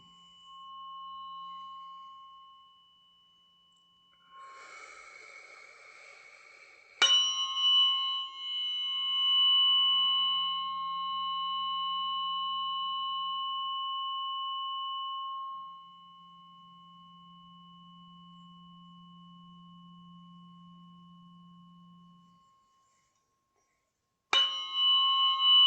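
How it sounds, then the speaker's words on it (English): Tuning forks ring out in long, pure sustained tones, struck with sharp metallic clangs that bloom into overlapping pitches, decaying slowly into a quiet low hum before a fresh strike near the end. "As we continue just listening to the sound of the forks and breathing."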